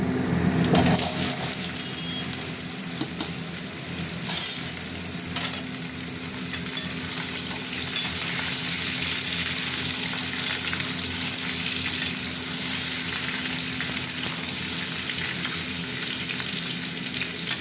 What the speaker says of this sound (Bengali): সবজিগুলো ভাজা ভাজা হতে থাক